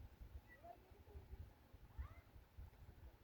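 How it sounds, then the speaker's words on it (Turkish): A cat meows a few times, quiet and somewhat distant, over a low rumbling background. "Geldi oradan bana sesleniyor kedi."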